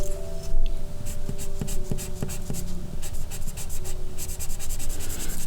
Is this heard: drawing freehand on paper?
yes